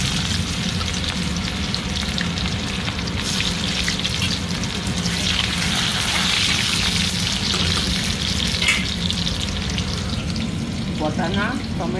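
Onion sizzles in hot oil alongside bay leaf and cumin, a dense, steady frying hiss that fills the whole stretch with faint clinks of stirring, close and fairly loud, with no talk over it.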